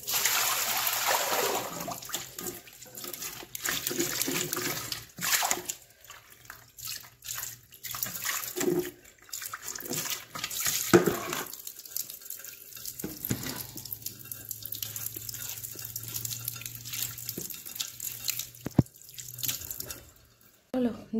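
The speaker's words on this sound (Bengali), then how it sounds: "জল ঝরতে থাক।" Water runs and drains in a home kitchen sink after rinsing eggs, a close, hissing stream with drips and gurgles that stops and restarts over about twenty seconds, with brief quieter gaps.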